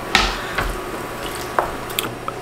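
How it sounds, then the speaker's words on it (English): Water from a kettle splashes into a pot of Irish stew with celery, heard as a few separate wet splashes and drips, close and moderately loud, with no talking. "I'm going to top it up with some water from the world's sexiest kettle"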